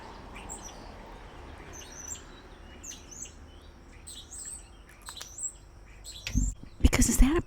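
Small birds chirp outdoors in scattered high tweets and short calls at middle distance, over a soft ambient hiss, with a few louder close knocks and rustles near the end.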